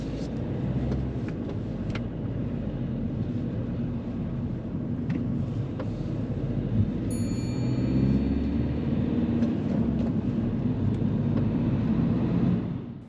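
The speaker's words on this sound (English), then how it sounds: "So driving along this road again, Abdullah did go over the speed limit." Steady engine and road noise from inside a car driving along a 30 mph street during a driving mock test, a continuous drone with faint clicks and a brief chime.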